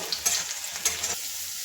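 Crushed garlic sizzles in hot oil in a pan, a steady bright frying hiss with a few scraping stirs early on, close and alone before the sizzle drops slightly near the end.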